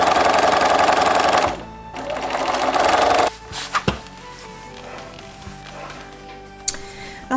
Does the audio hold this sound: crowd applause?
no